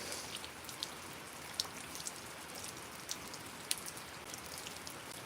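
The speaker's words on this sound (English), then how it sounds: "Beaver, it's raining out here on us. This tin roof, it'll put you slam to sleep." Steady rain falling on a tin roof outdoors in Mississippi, a soft continuous patter with occasional louder individual drops pinging on the metal, with no talking.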